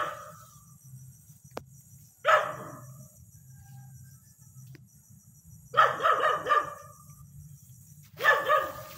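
A dog barks in three short bursts, outdoors at night against a steady chorus of crickets and insects, the barks moderately near and separated by quiet stretches.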